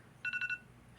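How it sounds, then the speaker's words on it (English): A phone alarm rings in a quick burst of four short electronic tones, followed by a brief pause and the start of another tone, clear and close against a quiet room. "That was the alarm to get a blue box."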